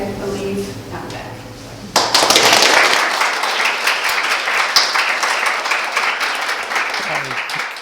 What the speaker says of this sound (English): I want to give another big applaud to our speakers today and to Caine for coming along.